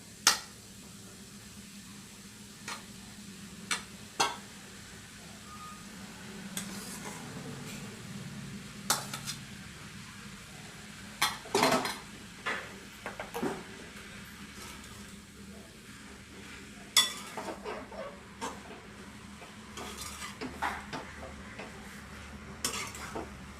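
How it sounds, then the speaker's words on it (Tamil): Spoon scraping and clinking against a pan while cooked rice is stirred into vegetable fried rice, sparse intermittent metallic taps and scrapes close up over a quiet background. "இப்போ நம்ம வேக வச்சுருக்க ரைஸை இதில் போட்டு கிளற வேண்டியதான் கொஞ்சம் கொஞ்சமாக"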